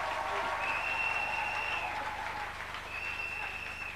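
A congregation at a church service applauding, a sustained wash of clapping that runs the whole time with a high tone sounding over it twice.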